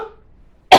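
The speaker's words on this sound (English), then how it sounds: "And now the congestion is making me cough." A single sharp cough from chest congestion, loud and close, bursting out abruptly after a faint exhaled murmur and near silence.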